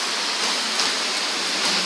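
Heavy rain pouring down during a thunderstorm from a hurricane, a dense, steady hiss of drops on surfaces, loud and continuous with no break, with dense fog present.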